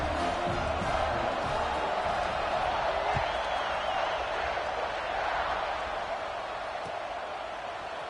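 Large football stadium crowd at a college game between Clemson and Auburn, a broad sustained roar of cheering and whooping as the kickoff approaches, loud and steady throughout with no close voices.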